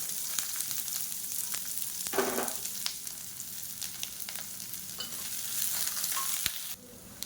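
Sliced onion sautés in oil in a kadai for an onion-tomato chutney, a continuous close sizzle with brief stirring scrapes, strong and unbroken until it cuts off near the end.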